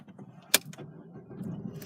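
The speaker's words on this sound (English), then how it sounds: "if we look at the display here whilst we start the vehicle" A 2010 Vauxhall Astra SRi XP starts up nearby. A sharp click is followed by a low engine rumble that builds and settles over the next second.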